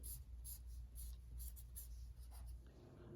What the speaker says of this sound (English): I'm going to write these numbers out, numbers and letters out.